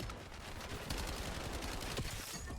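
Rapid gunfire from a Call of Duty Black Ops 7 Hardpoint match on the Den map, a dense continuous burst of shots layered over busy game noise, loud and close throughout.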